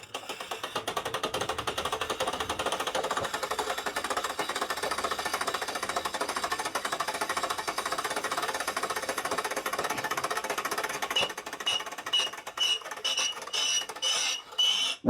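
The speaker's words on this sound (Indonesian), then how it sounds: "Nah, sekarang kita akan coba bor." A drill bit on a HASSTON ART 2900-600 manual push-type ceramic and granite tile cutter bores into ceramic tile, giving a continuous rough grinding buzz that runs steadily, then breaks into rattling bursts near the end.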